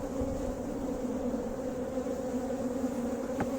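Honey bees crowd a frame of honey being moved into a nuc during a hive split, a continuous dense hum close by, with a brief sharper buzz near the end.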